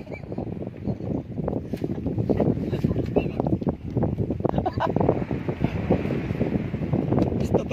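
Strong wind at sea buffets the microphone in loud, gusty bursts with broadband rushing noise, continuous and close, with a voice faintly present underneath.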